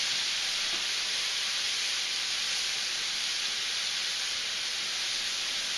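White wine poured into a hot pan of garlic, a loud, steady, bright hiss of steam and sizzling that holds evenly without a break.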